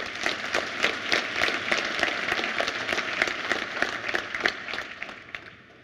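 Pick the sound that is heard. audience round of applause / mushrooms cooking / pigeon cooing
audience round of applause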